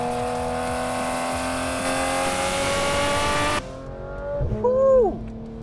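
A 2016 Porsche 991 GT3 RS in race mode holds a loud, steady high-revving engine drone for several seconds, then cuts off abruptly before a short rising rev and fall, heard from inside the car.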